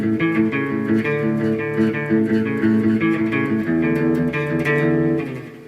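An electric guitar plays a quick, repeating song intro, bright strummed and picked notes driving steadily for several seconds with no voice.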